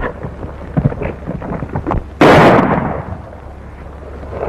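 A sharp thunderclap bursts in and rumbles away over steady background noise from a rainstorm, loud and close.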